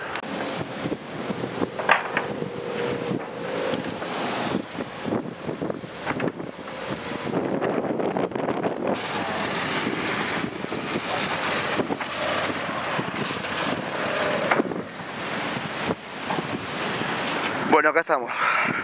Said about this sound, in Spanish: Lamentablemente el mar muy picado, fíjese.